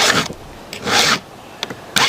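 Hand file sharpening a chainsaw chain tooth, a few rasping swipes up close, one longer stroke in the middle, with short scrapes between, no talk.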